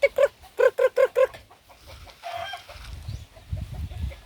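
Chickens cluck in a quick burst of sharp, repeated calls, then fainter scratchy rustling and softer low clucks follow nearby.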